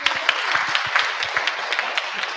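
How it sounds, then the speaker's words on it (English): An audience claps for a speaker named Helen at a language-teachers' teachmeet, a moderate round of applause with individual claps audible, steady throughout and fairly close. "So please give a big round of applause for Helen."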